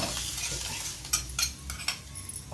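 Tomato thecha stirred around an oily pan, a spoon scraping and tapping against the metal in a few distinct clinks over a soft, steady sizzle.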